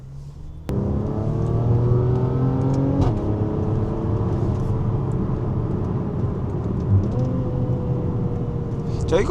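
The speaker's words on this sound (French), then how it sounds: "Tu as vu comment la voiture te propulse vers l'arrière quand tu accélères?" A Mercedes-AMG GLC 43 SUV engine revs hard close by, its whine climbing in pitch, dropping briefly at each gear change, then rising again.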